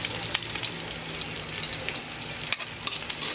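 Onions sizzle and fry steadily in a hot pan for a pork dish, a dense crackling hiss with occasional stirring scrapes, close and continuous with no talking.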